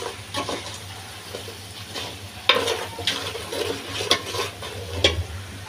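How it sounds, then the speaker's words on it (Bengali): Spices being stir-fried in oil in a pan for vegetable khichuri, a spoon scraping and stirring in rhythmic strokes over a low steady sizzle, with a few sharper clinks against the pan. "ছোট চামচে ভুনা ভুনা করব, তাই একটু মশলার উপরে করতেছি।"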